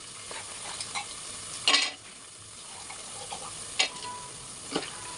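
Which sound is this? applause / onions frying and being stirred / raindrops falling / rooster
onions frying and being stirred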